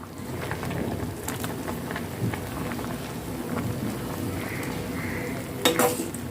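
Noodles for street-style Chinese bhel frying and being tossed in a pan, a continuous crackling sizzle with repeated scraping stirs and a sharper metallic clatter near the end.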